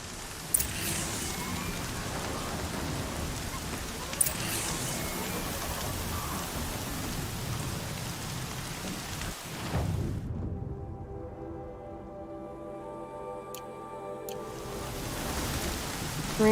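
Steady heavy rain hisses in the Horizon Zero Dawn video game, a dense broadband wash with a couple of sharp drops, then thinning to quieter patter and a faint low rumble near the end, no talking.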